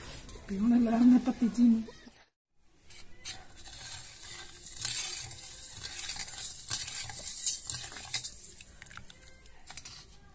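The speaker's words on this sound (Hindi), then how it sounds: "दूध में चीनी मैंने मिक्स की है, गरम बहुत ज्यादा है" Sugar is stirred into very hot milk, a soft scraping and swirling patter that runs steadily after a brief gap, while a voice speaks at the start.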